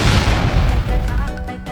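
Cartoon explosion from a shaken potion, a loud, close boom that bursts at once and rumbles for under two seconds as it fades.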